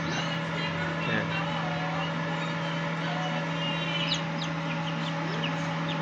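Boston Roundhead chickens cluck softly in a farm pen over a steady low hum, with scattered faint bird calls and speech in the background.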